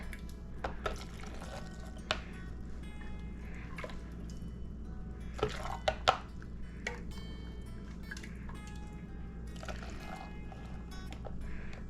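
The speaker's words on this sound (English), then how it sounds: "we'll just fill the jars, and we're gonna leave ourselves 1 inch of headspace" Pinto beans and salt being filled into glass canning jars for pressure canning, with soft pouring and dripping of liquid, light clinks and scattered knocks over a steady low hum, no talk.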